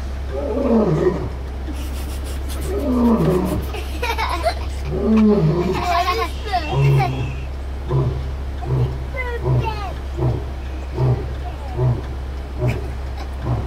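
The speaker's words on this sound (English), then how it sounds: "And their roar can be heard up to about 6 miles away." Big cat roaring near the Kilimanjaro Safaris ride vehicle at Disney's Animal Kingdom, a series of deep, rhythmic grunting roars following a stretch of people talking and laughing over a steady low engine rumble.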